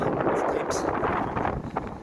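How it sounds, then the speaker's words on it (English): Strong wind along the River Thames in London buffets the microphone, a continuous roaring rumble with gusty fluctuations and no clear voices. "Kilometer 225, it's really windy here."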